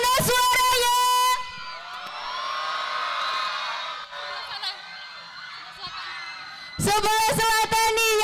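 A school crowd at an orientation event with scout performances cheers and shouts in a sustained, rising roar of high voices. An amplified emcee talks loudly before and after it.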